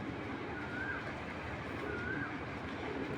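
A healthy pigeon at a pigeon farm gives a couple of soft coos over a constant broadband hiss of background noise.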